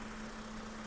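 A Toyota Camry 70 with a 3.5 L V6 idles with a steady, even hum at close range; the engine has a misfire on cylinder one.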